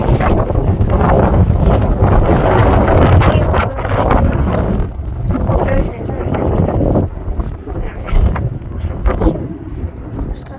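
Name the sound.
strong wind blowing at Manchester Airport viewing point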